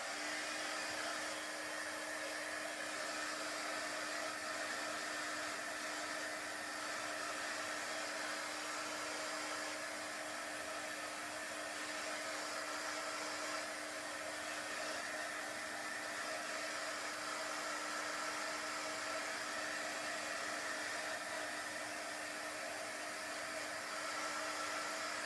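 A hair dryer blowing on chalk paste lettering, a steady close whirring rush of air with a constant motor whine, unbroken and even throughout with no talk.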